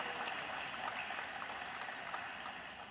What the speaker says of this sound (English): give them a wonderful hand of applause today